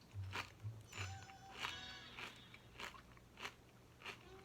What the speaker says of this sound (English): Just enough sweetness and a very satisfying crunch.